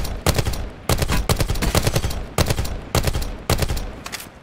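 A close-range gun fires loudly in about six rapid bursts, each a tight string of cracks, separated by short uneven gaps.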